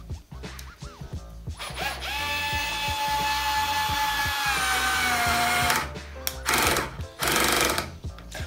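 Würth AS 4 cordless screwdriver running under load on a mid torque setting, a whining motor with gear ratchet clicks that rises, holds steady, then cuts out as the clutch stops it, followed by handling knocks.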